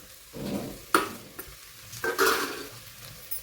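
Masala powder is stirred into a pot of mutton biryani base: soft scraping strokes with a light sizzle, a couple of sharp clinks of the spoon against the pot, close and alone.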